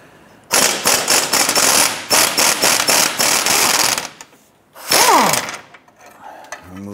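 A T55 Torx bit on a power tool breaks loose the control arm bolt on a 2006-2013 Chevrolet Impala front suspension. Loud rapid hammering bursts run for several seconds, then a pause and one more short burst.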